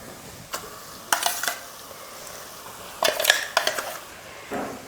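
Ground mutton keema is stirred in a pan for biryani, giving a few bursts of scraping and clattering against the pan with a faint sizzle between them. There is no talk.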